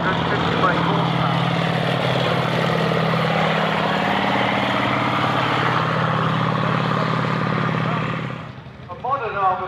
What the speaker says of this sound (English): It's powered by a 9-cylinder radial engine, actually taken adapted from an aircraft, which produces 453 horsepower.